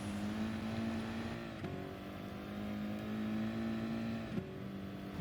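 An Audi race car in Gran Turismo Sport, heard on board as a steady engine drone that rises in pitch through the gears with two quick shift breaks, close and continuous, no talking.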